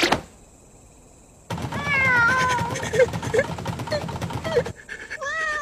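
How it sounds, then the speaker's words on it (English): A cat meows repeatedly in a rising, wavering voice, mixed with panting and shuffling, while voices talk over it in an animated show. "it's a cat."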